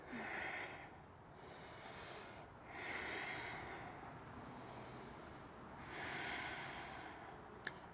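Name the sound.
deep breathing during yoga stretch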